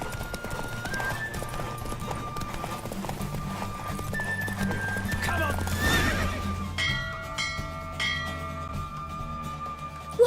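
Horse galloping in the video game The Witcher 3, with rapid rhythmic hoofbeats and a whinny over game music. A voice speaks over the action.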